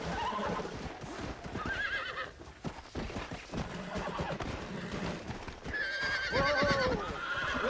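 A horse in the Red Dead Redemption video game whinnies several times at close range, with high, wavering neighs over steady clip-clop hoofbeats and no talking.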